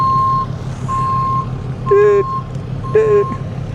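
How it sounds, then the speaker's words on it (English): A big pickup truck backing a boat trailer down a ramp sounds a reversing alarm, a steady train of beeps over engine rumble, with two louder warbling tones breaking in. "There's a big old pickup truck backing his trailer down, going to suck up a big boat."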